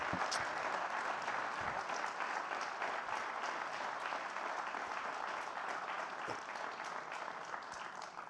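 Sustained applause from a conference-debate audience in a hall, steady dense clapping filling the whole stretch at an even, moderate level with no talking over it.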